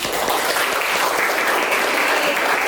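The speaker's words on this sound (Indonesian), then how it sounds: "tepuk tangan" Audience applause at a university teaching session, dense and steady clapping that holds at an even level throughout.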